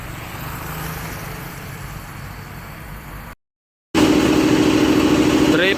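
A passenger vehicle engine drones steadily on the Pekanbaru–Medan road trip. It cuts out briefly, then returns louder and rougher as it accelerates, heard up close.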